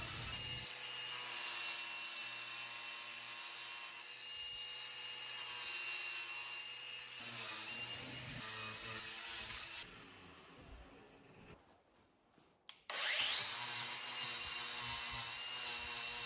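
An angle grinder fitted with a flap disc grinds down protruding square nails in a hardwood floor, a loud sustained whining drone that shifts pitch as pressure changes, drops out briefly, then starts up again.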